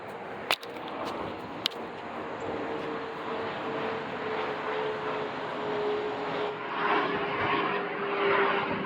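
A fixed-wing airplane passes overhead beside a rail line, its engine a steady broad drone that swells slightly toward the end, with a couple of sharp clicks early on and no talking.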